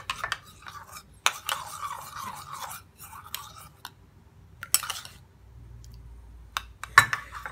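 A spoon scrapes and stirs a rose water skin paste in a small bowl, with short bursts of gritty mixing, soft clinks against the dish, and pauses between strokes, close up and fairly quiet.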